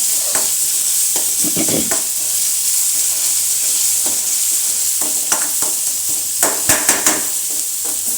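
Chopped carrot with a small piece of beetroot and onions roasting in a hot pan, a loud continuous sizzle and hiss close up, with a few scraping stirs and clinks of the spoon near the end.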